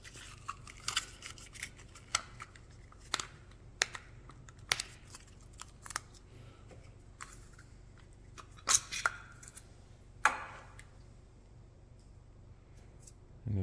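Scissors snip the casting vents off a thin silicone part freshly pulled from a 3D-printed vacuum-casting mold, giving a series of sharp, close clicks and cuts spaced irregularly, with a few louder snips near the middle.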